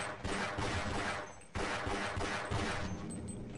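Rapid automatic gunfire in Half-Life: Blue Shift, dense bursts of shots with a brief break near the middle, loud and close with no talk.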